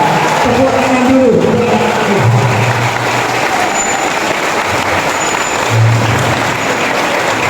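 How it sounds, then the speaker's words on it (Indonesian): Applause from an audience at a public lecture given by a regent, a steady broad wash of clapping under a low rumble of hall or traffic noise, with some voices mixed in. "Tepuk tangan dulu."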